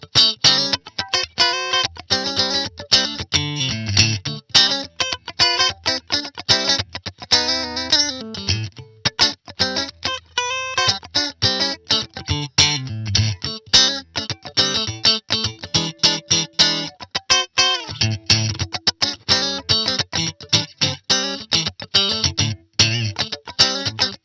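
Distorted electric guitar played through a NUX Mini Core pedal rig with a Rose compressor and a Shoptones 1967 Fender Twin Reverb impulse response plus light room reverb, loud rhythmic chugging riffs with sharp palm-muted stabs and ringing chords, no voices.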